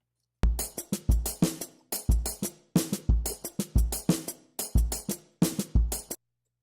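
An original drum groove repeats steadily, with punchy kick and snare hits and crisp cymbal or hi-hat strokes in a tight, even pattern, loud and close with no other sound.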